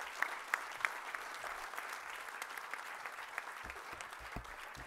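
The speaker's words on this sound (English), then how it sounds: "So a round of applause for our second honorable mention," Audience applause at an ACM India annual awards event honoring an honorable mention, a steady wash of clapping from a large crowd, fairly faint and distant, with a few sharper claps standing out early on.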